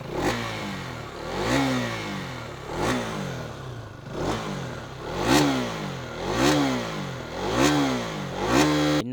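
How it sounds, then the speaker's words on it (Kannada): KTM Duke 250 Gen 3 motorcycle exhaust blipped repeatedly, about seven sharp revs rising and falling in a steady rhythm, close and loud with no talk. "ಗಾಡಿ ಎಕ್ಸಾಸ್ಟ್ ನೋಟ್ ಕೇಳಿಸ್ಕೊಂಡಿಲ್ಲ ಅಲ್ವಾ"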